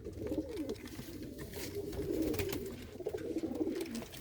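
Pigeons cooing in a loft where a chick has hatched, soft low murmuring calls repeating continuously close by, with faint chirps and rustling mixed in.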